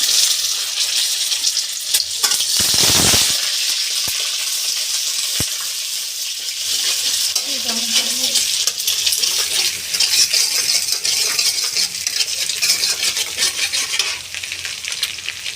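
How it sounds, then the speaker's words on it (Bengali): Eggs fry in an oiled pan and are stirred, with a continuous close sizzle, scraping stirring strokes and occasional sharp metallic clinks of utensils on the pan. "একটা প্যানে তেল তেল বসিয়ে দিলাম এখন আমি এখন আমি এর মধ্যে ডিম ঢেলে দিব"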